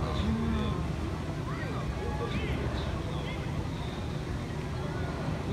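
The Mark Twain riverboat at Tokyo Disneyland chugs along with a steady low engine rumble under a continuous wash of water and ambient crowd noise, with faint whistling tones drifting above.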